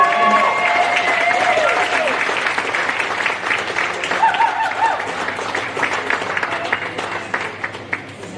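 Crowd applause for TPL Next Gen champions, sustained clapping that is loud at first and then gradually thins and softens, with faint voices and a brief tone in the middle.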